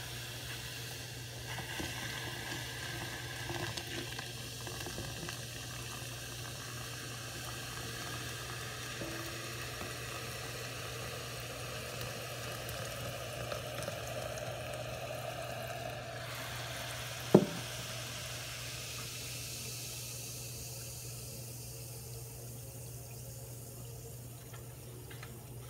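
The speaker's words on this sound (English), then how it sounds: "And then boiling water." Water bubbles and hisses steadily on a stove, a constant low simmering roar with a single sharp clink partway through.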